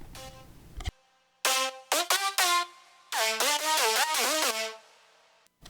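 Bright, metallic super saw synth layer in a reggaeton-style remix, playing stacked harmonic chord stabs in short bursts, then a longer sustained phrase with bending pitches, loud and up front with no voices.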